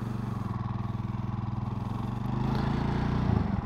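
Motorcycle engine running steadily and close, a continuous low throbbing rumble that swells slightly toward the end, with no talking over it.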